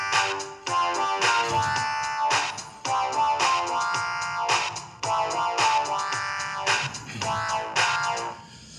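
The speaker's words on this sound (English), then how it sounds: "And if I connect it with the previous melody, it sounds like this." An electronic dance music melody sequenced in Clojure plays alone, with bright synth notes in choppy bursts over a low bass pulse, repeating in short looped phrases.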